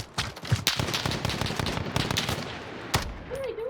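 Close, loud automatic gunfire from Call of Duty Modern Warfare, sharp rapid bursts of shots in quick succession with a few louder single cracks, ending with a brief pause and a final shot.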